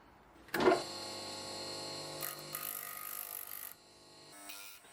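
An electric sander working on a restored 1930s German bean cutter, starting with a sharp knock, then a steady whirring buzz with fluctuating grind as it presses against the metal, easing off before a short final burst.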